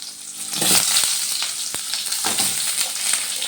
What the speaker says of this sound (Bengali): পেঁয়াজগুলো তেলের মধ্যে দিয়ে দিচ্ছি